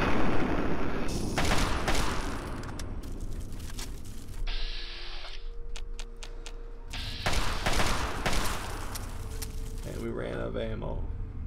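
Gunfire in Fallout 3 while killing a soldier, repeated loud bursts of shots with booming impacts spread across the stretch, separated by quieter gaps, with other game sounds around them.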